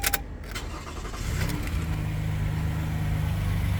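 A 2019 Toyota Kluger GX AWD engine starting: a few clicks and a brief cranking, then the engine catches and settles into a steady, even idle hum heard close up.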